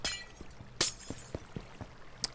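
Glass blocks shatter one after another in Minecraft, sharp crisp breaks spaced irregularly, with a few softer clinks between the louder bursts; no voices.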